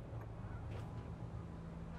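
Several geese honk steadily inside a room in the video game Alice: Madness Returns, a dense, continuous cackle of overlapping calls, close and fairly loud throughout.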